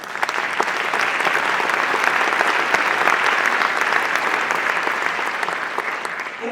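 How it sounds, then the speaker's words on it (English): Sustained audience applause fills a large hall at a justice action assembly, dense and steady clapping from many hands throughout with no speech over it. "Let's give that an applause."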